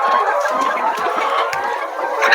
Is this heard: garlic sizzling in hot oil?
no